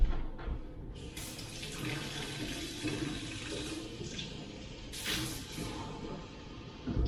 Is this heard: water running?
yes